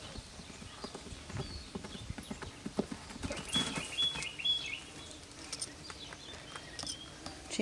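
Hooves of a nine-year-old pony mare clip-clopping at a walk in an arena, steady rhythmic thuds at moderate distance with light background noise.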